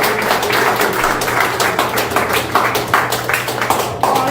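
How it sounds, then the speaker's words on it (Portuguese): Audience applause at a live talk show, a dense, loud burst of many hands clapping close by, pulsing unevenly for several seconds. "e aplausos para todos nós"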